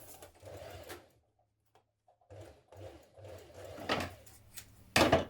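A sewing machine stitching reinforcement at the corners of a seam on a co-ord set garment, running in short buzzing bursts with a pause, then a sharp clack at the end.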